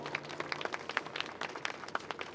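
Applause from a crowd gathered at a memorial protest rally, a dense spread of overlapping claps that stays steady and moderately loud for the whole stretch with no voices.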